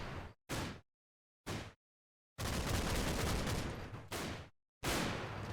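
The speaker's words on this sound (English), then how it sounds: "Last few mortar rounds coming out." Mortar rounds firing in Combat Mission: Battle for Normandy come as several sharp bursts separated by silent gaps, one longer rumbling volley in the middle, with no one talking.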